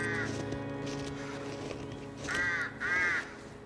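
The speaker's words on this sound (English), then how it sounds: "Stupid crows." Crows caw in The Long Dark survival game: one short call at the start, then two louder, close caws near the end over a low ambient background drone.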